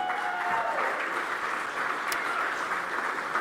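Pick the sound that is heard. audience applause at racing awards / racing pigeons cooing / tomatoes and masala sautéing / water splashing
audience applause at racing awards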